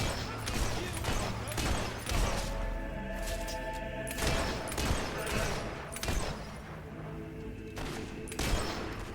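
Gunfire during combat in the video game Fable 3, with repeated bursts of shots and heavy thuds over a rumbling battle din, mixed with voices.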